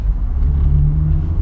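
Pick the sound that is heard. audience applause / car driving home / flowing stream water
car driving home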